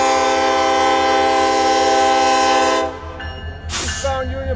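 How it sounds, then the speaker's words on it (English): Eastbound Union Pacific 1989 Rio Grande heritage EMD SD70 locomotive sounds its horn in a long, loud, steady blast that cuts off, followed by the rumble of the passing train and a brief hiss. "Eastbound Union Pacific 1989 Rio Grande. GM, EMD is by the fuel tank."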